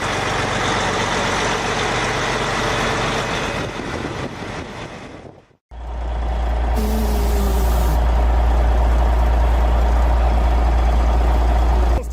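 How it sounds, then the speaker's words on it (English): Heavy transport convoy trucks grind along a difficult muddy road, their loud engines roaring steadily close by, with a short drop-out midway before a deep rumble resumes and an air-brake-like hiss briefly sounds. "Transport Convoy 1392 had to cross muddy road that were very difficult to navigate."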